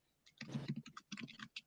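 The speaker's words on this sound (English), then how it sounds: "Someone's typing." Someone types on a computer keyboard, a faint irregular patter of soft key clicks in short bursts with brief pauses between them.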